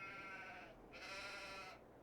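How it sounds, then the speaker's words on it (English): A flock of sheep in an open farm field gives two long, wavering bleats back to back, clear and fairly close against a quiet outdoor background. "It just seems really random to have a flock of sheep in the middle of the field, and no one responsible for them"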